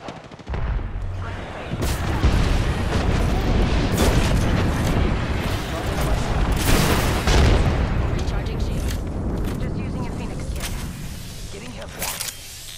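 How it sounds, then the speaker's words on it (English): Airstrike explosions in the shooter Apex Legends, a sustained barrage of heavy booms and rumbling blasts with scattered gunfire, loud and continuous across the stretch. "Airstrike."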